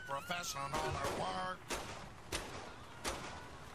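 Gunshots in Saints Row the Third fired at a fleeing car's tires: three sharp, loud bursts spaced about a second apart, after a stretch of talking.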